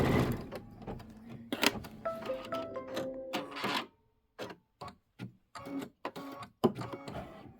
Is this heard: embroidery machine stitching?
yes